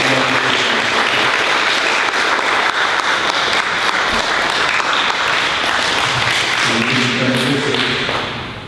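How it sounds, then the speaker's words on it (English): An audience at a fifth grade school recognition day applauds in a sustained, dense wash of clapping that holds steady for several seconds, with faint voices underneath, then begins to taper off at the end. "Let's give them a round of applause for that."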